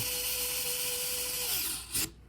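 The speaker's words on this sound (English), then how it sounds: "You just push the top button, screws itself right in." A small Hodo electric screwdriver drives a screw in, a steady high motor whine lasting about a second and a half before dropping off, then a brief louder burst as it stops, with no talking.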